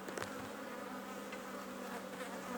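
Dense, continuous buzzing of many honeybees from an opened strong colony hive, a close steady hum filling the air with no talking.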